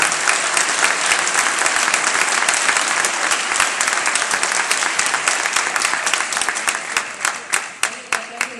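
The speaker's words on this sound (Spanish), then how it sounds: "Fuerte el aplauso para la ONG Centro Comunitario de Santiago." An award ceremony audience applauds a community center organization, dense sustained clapping filling the room loudly, thinning toward the end into a few separate claps.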